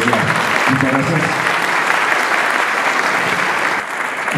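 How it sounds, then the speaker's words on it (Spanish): Audience at a university anniversary ceremony breaks into loud, sustained clapping, a dense close wash of applause that eases slightly near the end. "Un fuerte voto de aplauso para la universidad"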